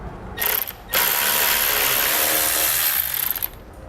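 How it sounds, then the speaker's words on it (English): A ratchet with a 10mm socket loosens a bolt on a 2016 Chevrolet Colorado. The pawl buzzes loudly and steadily for about two seconds between brief clicking bursts. "we're going to grab a 10mm socket, and we're going to pull both of those out"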